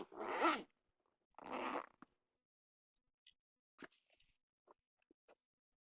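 A zipper on a pouch in the larger front pocket of an FPV drone bag, pulled in two firm, close strokes and followed by a few faint clicks and rustles of handling.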